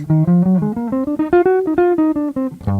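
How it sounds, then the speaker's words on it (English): A quick run of clean, warm jazz guitar notes on the altered scale played in a steady stream, climbing and then falling, ending on a low chord. "if you're thinking of the altered scale, then it's gonna sound like this:"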